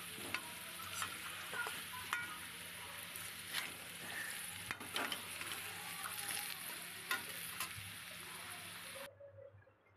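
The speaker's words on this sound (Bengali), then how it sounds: "বেশ লাল লাল করে আলুটা ভেজে নিচ্ছি।" Potatoes fry in a pan for mutton curry with tamarind, giving a continuous soft sizzle with occasional stirring scrapes, fairly quiet and close, cutting off near the end.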